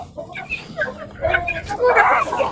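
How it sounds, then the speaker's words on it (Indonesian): Three-month-old chickens eat freshly given feed, clucking and squawking in short, irregular bursts close by, while a person talks over them. "Bisa dilihat ayamnya sangat lahap sekali untuk makan pakan yang kita berikan"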